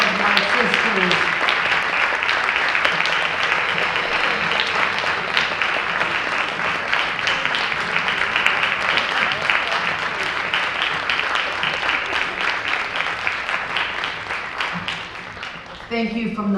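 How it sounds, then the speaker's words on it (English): Audience applause at a sorority chapter musical celebration, dense and continuous clapping from a large crowd sustained for many seconds, loud and close, tapering slightly near the end as voices come through. "Let's give them another round of applause."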